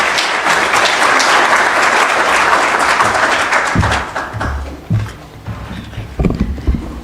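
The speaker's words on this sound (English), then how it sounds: "Give a round of applause." A lecture-hall audience at a university memorial lecture applauds loudly and steadily for the host, the dense clapping thinning out after about four seconds into scattered claps and a few low thumps.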